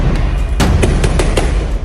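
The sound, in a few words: gunshots in news footage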